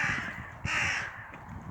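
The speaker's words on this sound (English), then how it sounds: "Crows. I love crows." Crows cawing outdoors in the UK, two harsh drawn-out caws one after the other, near and clear over faint low background rumble, with no voices.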